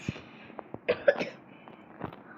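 A few short, sharp coughs close by, spaced irregularly over a quiet background with faint rustling.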